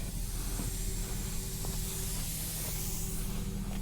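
Steady close hiss of air escaping from a tow truck tire as it deflates, continuous and unbroken throughout with a faint low hum underneath and no talking.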